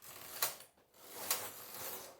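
A domestic knitting machine carriage is pushed across the needle bed to knit rows. It makes two quiet, separate swishing passes with light mechanical rattle and ratcheting.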